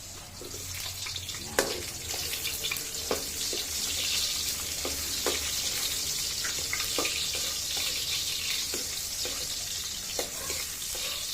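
Onion hits a hot pan of frying garlic cloves, still in their skins, while cooking catfish. A bright, steady sizzle builds and holds, broken by occasional sharp clicks of a utensil.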